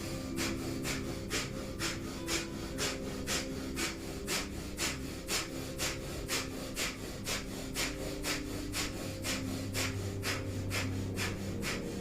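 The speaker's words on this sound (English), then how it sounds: "Powerfully pumping the navel, panting like a dog through the nose." Rapid, rhythmic panting through the nose during a kundalini yoga breathing exercise, about two sharp breaths per second, close and steady throughout with no talking.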